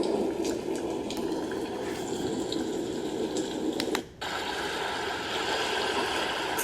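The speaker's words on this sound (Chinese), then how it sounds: "好，这就是很明显的下雨打雷声。" Rain-and-thunder white noise for a baby, heard as a steady rushing downpour with a short dip partway through, with no speech present.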